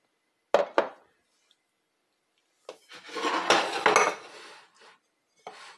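A spoon clinks and scrapes in a bowl while cooked shrimp is mixed: two sharp knocks, a pause, then a longer stretch of scraping and clatter ending in a final tap, close by.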